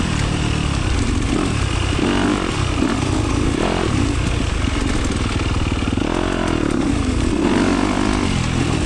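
Yamaha dirt bike ridden along a single track trail at Durhamtown, its engine buzzing loud and close throughout, rising and falling steadily as the rider works the throttle.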